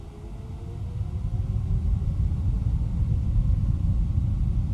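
Jet engines of an FSLabs Airbus A321neo in a flight simulator spool up to a steady, loud low rumble that swells slightly after the first second and then holds constant.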